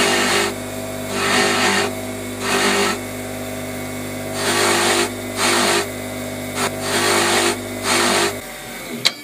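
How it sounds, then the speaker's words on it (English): Abrasive wheel putting a brushed finish on a handmade silver cross in a goldsmith's workshop: repeated bursts of hissing, buffing friction over a steady motor hum, each pass lasting about a second. "This one I'm quite tempted to put a brushed finish on it using an abrasive wheel."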